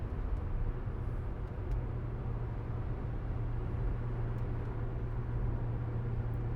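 Steady low engine drone and road rumble from a 2001 Audi S4 Avant with a six-speed manual, cruising in sixth gear under about 18 psi of boost, continuous and even throughout with no talk.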